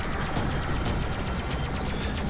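Rockets firing during a space combat session in the Freelancer video game, a rapid dense burst of blasts in quick succession, loud and sustained for a couple of seconds with no talk over it.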